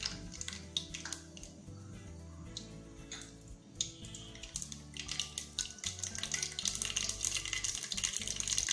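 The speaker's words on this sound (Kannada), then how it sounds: "ಸಾಸಿವೆ ಹಾಕ್ಕೊಳ್ತೀನಿ." Mustard seeds are added to hot oil for a vegetable pulao and sizzle and crackle steadily, with a watery hiss that grows busier toward the end over low background noise.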